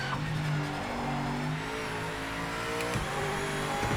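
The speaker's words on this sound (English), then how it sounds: "So I like the engine braking down to second there." A race car engine in Project Motor Racing brakes and downshifts to second at Spa-Francorchamps, its tone dropping in steady stepped pitches with a faint tire squeal near the end, and no talk.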